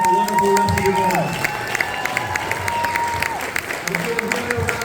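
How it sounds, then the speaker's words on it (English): Audience applause and cheering at a business summit, a broad, sustained roar of clapping with whoops, while a voice talks and tones sound over the crowd. "Give a round of applause, everybody."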